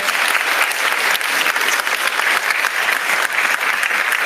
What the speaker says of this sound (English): I'm getting a clap